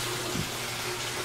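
Water pours steadily into a washing machine tub, a continuous close rush with no voices over it.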